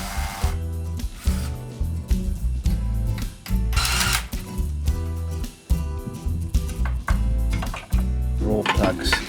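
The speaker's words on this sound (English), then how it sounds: "Now I'll drill the remaining holes" A power drill bores holes into a wall while fitting a gate stop, heard as loud, close bursts of motor whine that repeatedly start and stop, with short pauses and knocks between runs.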